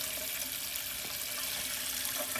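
Toilet tank and bowl of a 1980 Eljer Emblem with a standard flapper refill with water, a steady faucet-like hiss of running water, close and constant, with no talk.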